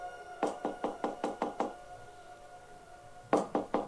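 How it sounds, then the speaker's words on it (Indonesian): Knocking on the front door of a house: a burst of seven quick, firm raps, a pause, then three more, fairly close and alone against a quiet background. "Suara ketukan pintu depan rumah terdengar dengan jelas."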